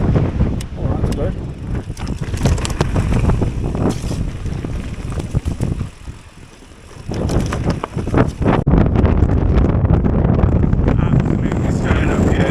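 Strong wind buffets the microphone at a mountain bike trail centre in Glenlivet on a bright, breezy day, a loud continuous roar with a brief lull midway before gusting back in.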